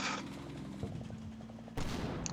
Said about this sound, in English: Someone else was shooting at him right there.